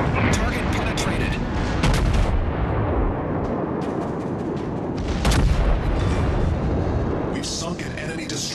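Battleship guns of the American USS Arizona (BB-39) firing in the naval video game World of Warships: dense, continuous booming rumble with layered blasts, under game voice announcements.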